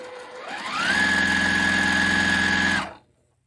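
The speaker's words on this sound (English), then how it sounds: "I just love the way this machine sounds." A sewing machine whirs up to speed and runs steadily with a high mechanical whine, then stops abruptly; close and loud, no talking.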